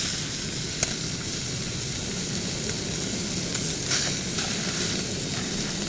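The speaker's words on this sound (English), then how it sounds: "Pan searing some sausage." Sausage sears in an MSR skillet on a backpacking trip, giving a steady, close sizzle with a few small pops and spatula scrapes and no talk.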